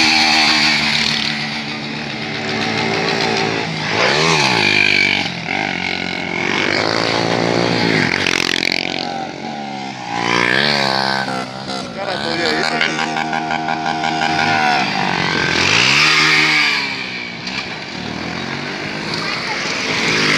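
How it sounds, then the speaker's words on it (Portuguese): A motorcycle engine revs hard again and again at a riders' meet, its pitch sweeping up and down in loud, rising and falling bursts, with voices talking over it. "Homem briga com a moto,"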